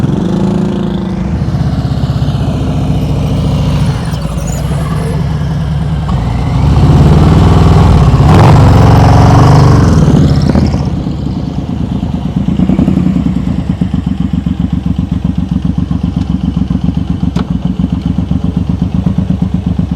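A motorcycle engine rumbles loudly and close during slow-speed riding practice, idling and then revving up midway before settling back to a steady throb.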